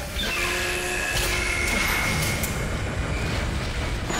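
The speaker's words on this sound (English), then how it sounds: "Replacing damaged tram car." A tram car rolls into place in the sci-fi horror game Dead Space, a steady, loud mechanical rumble with a faint high metallic whine running throughout.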